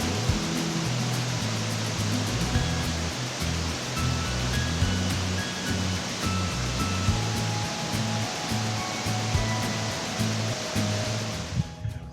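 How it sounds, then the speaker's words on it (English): Jungle waterfall near Chiang Mai, Thailand, roars as a continuous, dense wash of falling water heard up close, loud and steady throughout with no voices. "now we're here at the bigger part where most of the water comes down."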